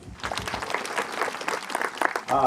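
An audience at a live comedy show claps together, a dense burst of applause lasting a couple of seconds that swells slightly before ending.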